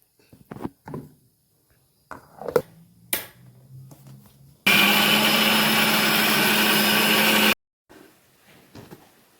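After a few clicks and knocks, an electric mixer grinder whirs loudly for about three seconds, grinding tomato and onion masala with water, then stops abruptly before some quieter handling sounds.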